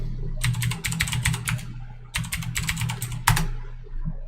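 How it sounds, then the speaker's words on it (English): Rapid clicking of keys on a computer keyboard, close and steady, in two bursts separated by a brief pause, with a quiet hum underneath. "And then I type in Tim Hortons again."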